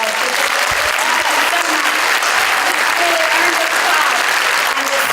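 A crowd at a charity celebration honouring women gives one more round of applause. Loud, continuous clapping runs through the whole five seconds, with faint voices underneath.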